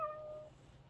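An AI companion robot pet cat, built to keep an elderly owner company, gives one short, soft synthetic meow that quickly trails off into quiet.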